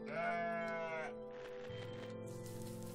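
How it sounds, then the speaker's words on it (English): A goat bleats in the video game OneShot: a sustained, loud, tonal bleat running about a second, followed by softer game ambience and a low hum. "This is my favorite goat."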